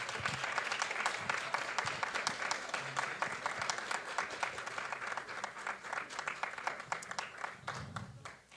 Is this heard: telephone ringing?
no